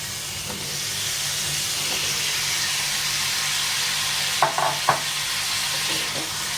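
Ridge gourd sautéing with salt in a hot pan for a spicy Maharashtrian dodka bhaji, a steady close sizzle that runs throughout, with a few brief scrapes and clinks of stirring near the end.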